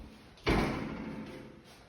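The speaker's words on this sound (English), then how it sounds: "that noise was me hitting my head" A head bumping into an interior wall of a rental home bedroom, a single dull thud close by, followed by a brief fading room resonance with no talking.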